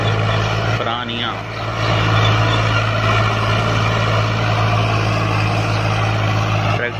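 An old disc harrow drawn by a tractor through a field, its engine a loud steady drone with low rumbling throughout and a brief dip near the start, while people talk over it.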